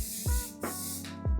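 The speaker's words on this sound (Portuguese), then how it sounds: "sempre quando formar frizz, você pode voltar com o spray de brilho" Three short hissing bursts of shine hairspray sprayed onto styled hair for Hollywood waves, close and fairly quiet, each a sharp spray of about a quarter second.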